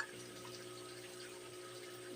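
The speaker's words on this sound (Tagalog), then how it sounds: "binabawasan ko ng tubig tong ating tank" Water drains steadily out of an aquarium tank holding crayfish, a continuous close trickling rush over a constant low hum, with no talking.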